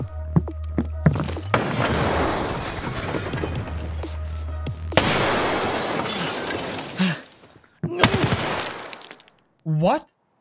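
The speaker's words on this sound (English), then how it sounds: "I think I heard two grenades bouncing and then two explosions" Loud, sharp blasts and clattering bursts in the Escape from Tarkov video game: two grenade explosions go off close together, each followed by a crackling, debris-like tail, with shorter impact sounds after them.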